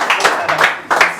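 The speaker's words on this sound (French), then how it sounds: "Ça mérite à applaudir." A studio audience at a Haitian television debate programme claps, a dense burst of hand claps close by that swells and dips in a few waves over about a second, with a voice speaking over it.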